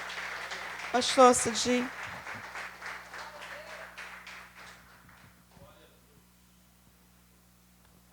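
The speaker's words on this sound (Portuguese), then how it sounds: "Eu quero te convidar a dar uma linda salva de palmas para o Senhor." A congregation at an online Christmas Day church service bursts into applause under a voice, then the clapping thins and fades away over several seconds, ending in near quiet.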